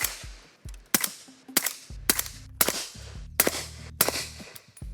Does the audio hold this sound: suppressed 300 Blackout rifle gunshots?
yes